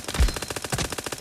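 Rapid automatic gunfire from a first-person shooter video game, a dense run of sharp, evenly spaced shots, loud and close, with a heavier thump near the start.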